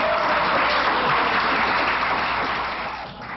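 A packed city council chamber in a Los Angeles neighborhood bursts into sustained applause, a thick, even roar of clapping that holds steady and then begins to fade toward the end.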